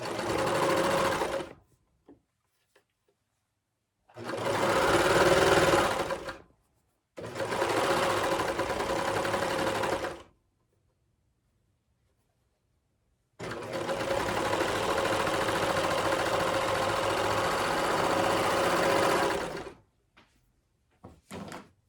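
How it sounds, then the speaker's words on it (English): A serger runs a small seam along the edge of fabric cut from clothing, stitching in four loud bursts of steady machine whirr separated by pauses, the last burst the longest. "do a small serger seam along that edge"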